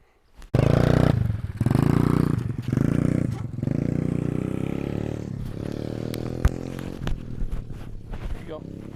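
A Kayo TT140 dirt bike rides around a yard, its engine droning loudly and steadily with rises and dips in pitch as it moves close by.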